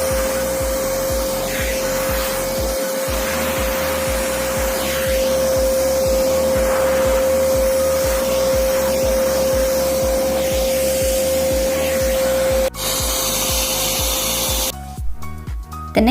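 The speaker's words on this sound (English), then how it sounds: "Adjust the air power on the handle to adjust the suction." An Agaro Ace wet and dry vacuum cleaner with its multi-purpose brush runs in a loud, continuous motor drone with a steady whine as the suction is adjusted. The tone shifts abruptly near the end.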